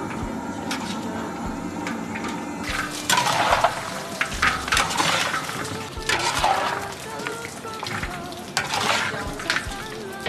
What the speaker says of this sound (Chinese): 卤好的底汤，再倒入鸡翅翻炒一下